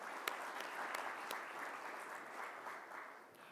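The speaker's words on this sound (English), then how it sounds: "Please, let's give him a big round of applause." Conference audience applause, a dense even wash of many hands clapping at once that holds steady and then starts to fade toward the end, heard from a distance and fairly faint.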